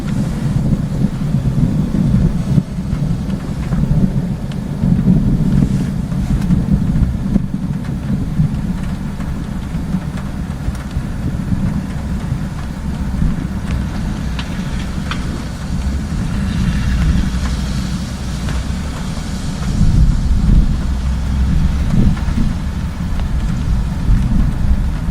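Deep thunder rumbles through a Florida summer thunderstorm, a long low rolling roar with swelling bursts, mixed with rain and wind buffeting the microphone, no voices.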